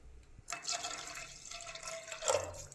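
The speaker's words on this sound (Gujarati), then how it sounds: "હવે આપણે પાણી નાખી દઈશું." Water poured into a pressure cooker of spiced mixed-dal masala khichdi, a brief, soft splashing pour lasting about two seconds after a moment of quiet.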